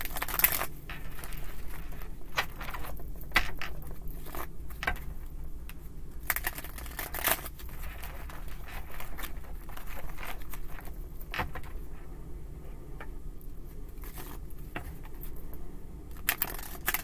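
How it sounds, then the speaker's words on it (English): A deck of tarot cards is shuffled with continuous soft riffling and pattering clicks, faint and close, in a quiet room with no voices. "these cards do not want to shuffle for beans."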